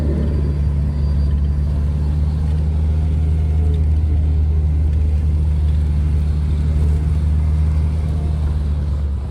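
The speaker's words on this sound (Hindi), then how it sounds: "अब यहाँ से पानी की बोतल पकड़ेंगे और बस फिर हम लोग पिंडी की गाड़ी में बैठते हैं" A car carrying passengers drives on a road near Murree, Pakistan, with a steady engine rumble and road noise running continuously and loud throughout, heard from inside the vehicle.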